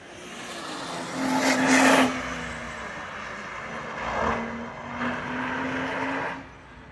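A BMW races fast through a slalom course, its engine note rising and fading in passes as it sweeps by at a distance, with tire noise and open-air ambience between bursts.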